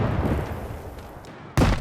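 A grenade blast in STALKER 2: Heart of Chornobyl erupts as a single loud, sudden boom near the end, following a stretch of rumbling battle noise.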